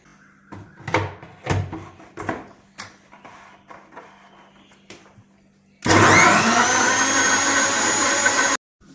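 A kitchen blender whirring chilled milk and papaya, a loud steady motor roar lasting about three seconds before cutting off abruptly, preceded by clinks and handling knocks.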